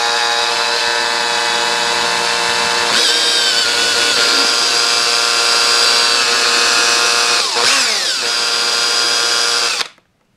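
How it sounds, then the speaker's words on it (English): A small power drill with a 2mm bit whines loudly at high speed drilling solid card, its pitch dipping briefly twice under load before it stops abruptly. "I'm using the same drill bit as I used to drill the card, which is a 2mm drill bit"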